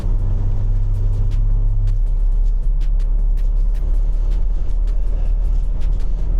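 A small 4-cylinder car drives along a road, its engine a loud steady low drone with road rumble, a brief rising tone early on and scattered ticks and clicks from the cabin.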